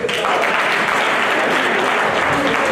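A church congregation at a thanksgiving service claps together, a loud, dense and continuous burst of applause filling the whole moment, with faint voices mixed underneath.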